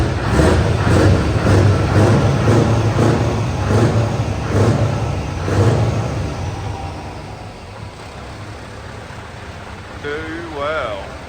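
A Scania 164 580 V8 truck engine revs in a series of rhythmic surges that are loud and close, then eases off into quieter, lower running.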